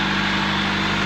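A 1999 Honda Civic engine, mid manual-transmission swap with the transmission wiring unplugged, idles in a steady, continuous low rumble, close and loud.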